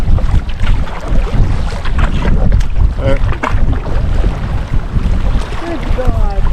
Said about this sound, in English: We got a headwind we're going right into now